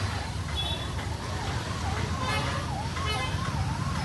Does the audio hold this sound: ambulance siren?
yes